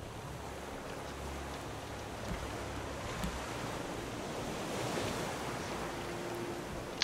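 Steady broadband wash of water and surf around a raft at sea in the survival game Raft, a continuous rushing swell with no distinct splashes and no voices.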